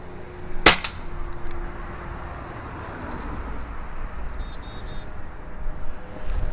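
One sharp, loud report from an Umarex Notos air rifle firing a JTS Dead Center pellet, followed by a quieter metallic tick and faint outdoor ambience with scattered small clicks.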